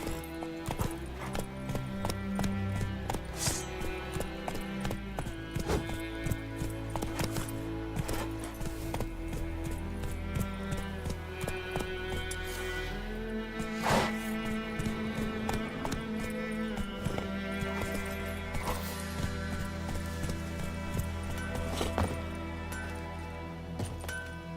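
Roach, the horse in The Witcher 3, gallops in steady clip-clop hoofbeats that run all the way through, mixed with a continuous musical score and game ambience.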